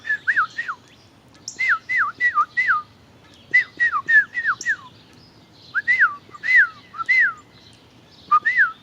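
A red bird in Jamaica calls repeatedly in short bursts of clear, sliding whistled notes, grouped in threes and fours with brief gaps, fairly close and distinct over faint background noise.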